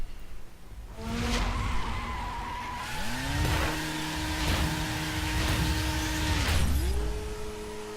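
An Alfa Romeo 4C in the racing game The Crew accelerates on a track, its engine revving up through rising gear sweeps with shifts between them, loud and close, with some tire noise.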